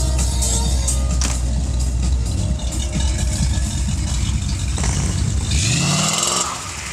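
An American muscle car engine runs loud and close, a steady throaty drone that holds throughout and then drops off with a falling pitch near the end.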